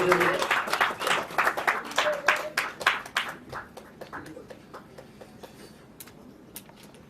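A live audience bursts into loud applause at an event for actor Dhananjay, dense clapping at first that thins into scattered claps over about seven seconds.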